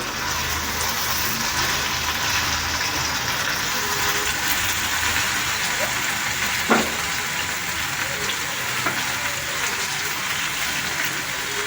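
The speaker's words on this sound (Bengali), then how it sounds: "সেই টমেটো কুচিটা এর মধ্যে মিশিয়ে দিলাম আর দিচ্ছি দুটো তেজপাতা দিয়ে এটা ভালোভাবে নেড়ে নেবে" Chopped tomato and bay leaves frying in a pan for jackfruit korma, giving a steady, even, rain-like sizzle throughout with one soft clink of a spoon partway through; no talking.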